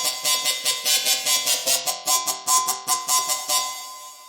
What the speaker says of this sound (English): I made this using the growl wave table, and then a phase mod here, and that's pretty much all that's going on for the sound